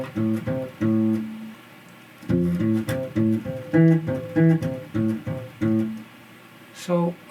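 Bass guitar combo lick mixing triad fingerings: a brisk run of plucked notes in triplet phrases, close and clear, with a short pause mid-phrase before it resumes, no talking.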